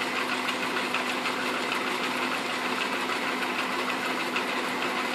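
A metal lathe runs steadily on a freshly fitted belt, with a slight bounce still present, giving an even, moderately loud mechanical whir and hum with a faint rhythmic pulse and no talking.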